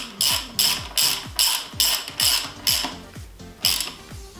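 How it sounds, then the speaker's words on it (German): A screw cap being tightened onto the fine-threaded aluminium valve cover of a KTM 250/350 engine with a ratchet, producing eight sharp, evenly spaced metallic clicking bursts up close. "ich mache jetzt hier unten die Schraube wieder drauf, diese Kappe."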